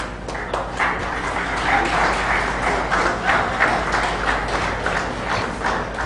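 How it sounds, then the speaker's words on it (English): Conference audience applause fills the hall, a sustained steady patter of many hands at fairly close range, holding level for the full stretch. "Big round of applause."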